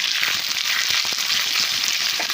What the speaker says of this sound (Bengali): সরষের তেল গরম হয়ে গেছে, তাতে দিলাম কালো জিরে, শুকনো লঙ্কা, পেঁয়াজ, কাঁচা লঙ্কা